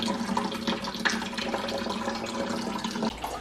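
Water flushing through a refrigerator inline water filter into a bucket, a steady close splashing stream that runs continuously without pause.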